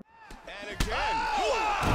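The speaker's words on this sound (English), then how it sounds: "Vicious hammer fist." A hammer fist lands in the EA Sports UFC 2 video game, a sharp slamming thud followed by a second heavy impact, close and punchy, as excited commentary plays over the fight.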